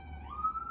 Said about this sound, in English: sorry about sirens, I live in New York City